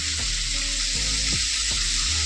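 Bitter gourd and pumpkin stir-frying in a pan with salt and turmeric, a continuous close frying hiss with soft periodic stirring thumps.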